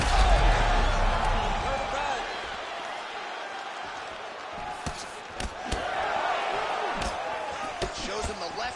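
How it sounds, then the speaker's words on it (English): Arena crowd at a UFC fight roars steadily in appreciation after a grappling exchange, a dense far-off wash of cheering with scattered sharp thuds and swells running under it throughout. "the crowd voicing its appreciation after that crazy sequence in the previous round"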